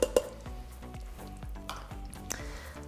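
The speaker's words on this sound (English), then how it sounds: "So we're gonna mix it up really good and then just let it saute just to get a little bit thicker." A creamy keto dish sautés in an Instant Pot while a utensil stirs it, giving soft sizzling over a faint steady hum with a few sharp scraping clinks against the pot.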